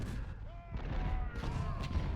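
Artillery rounds landing in the Civil War strategy game Richmond, a short burst of dull booming impacts and crackling blasts, loud and dense, with a low rumbling bed under them.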